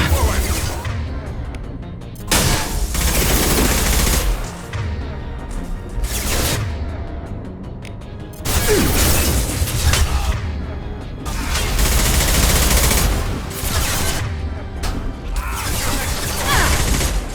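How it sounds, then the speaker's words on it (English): Heavy high-impact gunshots in Mass Effect Legendary Edition, loud booming blasts arriving in irregular bursts over several seconds, each with a crashing, shattering tail amid battle noise. "Firing a high-impact shot."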